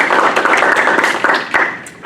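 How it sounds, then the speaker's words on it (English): A small audience claps for Nicole, a dense, steady patter of hand claps lasting a couple of seconds, with a few sharper taps standing out near the end. "I would like to give Nicole a round of applause."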